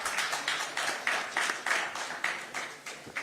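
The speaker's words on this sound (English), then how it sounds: "A round of applause, please." Sparse applause from a conference audience, individual claps spaced unevenly and fairly faint, as if a small number of people clap at a distance in a quiet hall.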